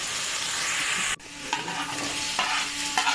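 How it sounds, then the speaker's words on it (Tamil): Onions and tomatoes sauté in a pan for a vegetable kurma, with a steady broadband sizzle and scraping stirs, then a sharp cut and softer frying with intermittent spoon strokes; no talk. "வதங்கும் போது கொஞ்சம் கொஞ்சம் கிண்டி விட்டிங்கன்னா ஈஸியாக சீக்கிரம் வதங்கும்."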